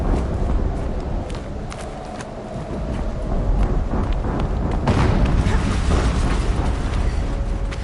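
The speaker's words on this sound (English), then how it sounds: "An explosion." Explosions in the video game Horizon Zero Dawn: loud, continuous rumbling blasts and crackling debris that swell and stay dense throughout.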